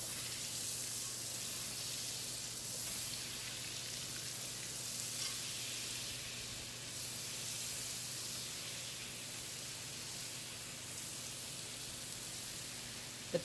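Butter and flour sizzle and melt in a hot pan with bacon fat, with the burner already switched off. The sound is a steady, close, even frying hiss with no breaks and no talking.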